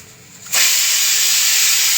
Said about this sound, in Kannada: ಪಲಾವ್ಗೆ ಇಟ್ಟಿದ್ನಲ್ಲ, ಅದು ವಿಷಲ್ ಕೂಗ್ತಾ ಇದೆ, ಕೇಳಿಸ್ಕೊಳ್ಳಿ